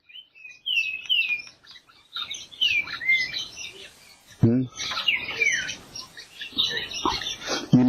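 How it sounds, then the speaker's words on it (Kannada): Birds chirping close around a tree house about thirty feet up: bright, rapid tweets and trills come in repeated bursts, near and lively, with a brief low voice in between. "ಒಂದ್ ಕ್ಷಣ ಸುತ್ತಲಿನ ಪಕ್ಷಿಗಳ ಇಂಚರ ಕೇಳ್ರಿ ನೀವು ಅವು ಇಲ್ಲೇ ಹತ್ರ ಇರ್ತಾವ"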